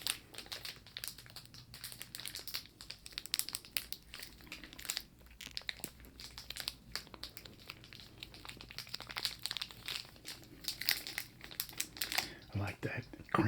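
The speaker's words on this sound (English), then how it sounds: "I like that crinkly wrapper." A crinkly plastic wrapper is crumpled and handled up close in soft, irregular crackles, quiet and intimate, with faint soft-spoken talk around it.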